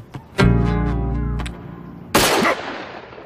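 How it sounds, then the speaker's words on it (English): A single sharp gunshot cracks loudly after a stretch of low droning tones, its echo tailing off quickly. "What was that? Just a gunshot."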